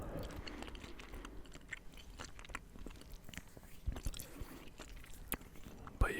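Close, quiet, wet gum chewing in an ASMR setting, with irregular soft smacks and squishes repeating over several seconds and no talking.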